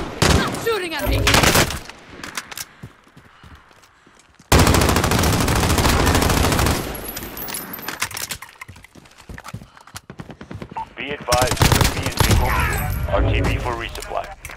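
Call of Duty Warzone gunfire: loud bursts of automatic fire and shots in dense stretches, with a sudden heavy onset midway and quieter gaps between, mixed with game voice chatter.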